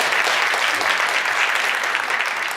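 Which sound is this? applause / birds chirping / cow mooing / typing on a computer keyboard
applause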